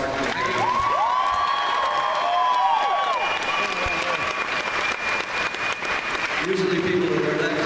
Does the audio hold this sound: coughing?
no